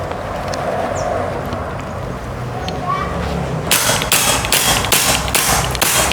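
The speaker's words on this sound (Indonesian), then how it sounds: "kita akan coba tembakan di sistem semi otomatisnya ya, di air ya teman-teman." Rapid semi-automatic shots from a 460cc PCP air rifle fired into water, about six sharp cracks in a quick, even rhythm near the end, with steady background noise before them.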